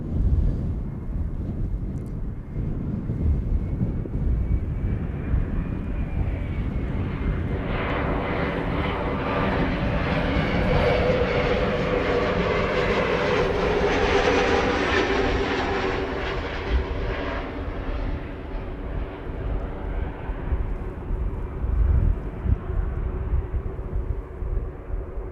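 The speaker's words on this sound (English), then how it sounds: "This is KLM flight 1068, arrival from Southampton, number 175." KLM airliner arriving at Amsterdam Schiphol from Southampton, engine roar swelling to a peak midway as it passes close, then fading back into a rumbling, wind-buffeted background.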